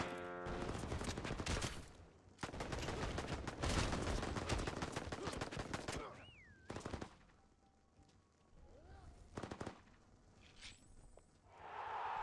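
Rapid automatic gunfire bursts in a battle royale video game, loud and dense in long volleys, broken by a few gaps with swooshing effects and quieter shots toward the end.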